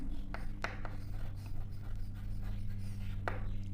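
A pen scratches across paper while working through a math equation, producing short, irregular strokes and taps close to the microphone over a low steady hum.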